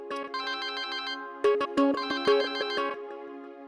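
A mobile phone ringtone plays a bright, electronic, melodic phrase of repeated tones that stops and restarts with sharper, punchier notes, close and clear with no voices over it, in a Hindi comedy TV serial scene.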